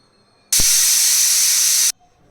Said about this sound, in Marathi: आपण आता गॅसवर कुकर ठेवलेले आहे इथे मी दोन शिट्ट्या करून घेणार आहे